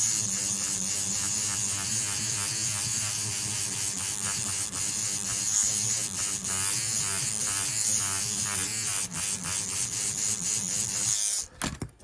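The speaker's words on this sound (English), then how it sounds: "I'm going to use my electric toothbrush to get into all the gaps here" An electric toothbrush buzzes steadily and close while scrubbing flux from the gaps of a BlueSCSI V2 circuit board, a continuous whine that cuts off abruptly at the end.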